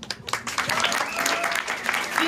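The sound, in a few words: audience applause for a school class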